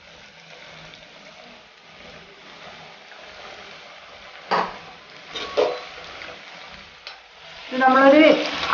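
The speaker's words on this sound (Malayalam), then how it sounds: "ഇനി നമുക്കിത് ഫ്രൈ ചെയ്തെടുക്കാം." Flour-coated chicken fingers deep-frying in hot oil, a steady sizzle with stirring and clattering bursts midway, swelling into loud crackling bubbling near the end as fresh pieces drop in.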